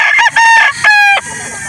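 A gamecock rooster crows loudly and close up, giving two strained, harsh calls in quick succession, with no other sounds.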